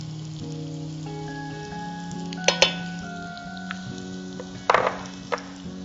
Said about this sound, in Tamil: நம்ம இந்த கோஃப்தாவை நல்லா அப்படி திருப்பி விட்டு வேக வச்சுக்கலாம்